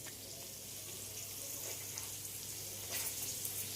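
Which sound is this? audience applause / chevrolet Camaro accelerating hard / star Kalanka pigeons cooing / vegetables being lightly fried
vegetables being lightly fried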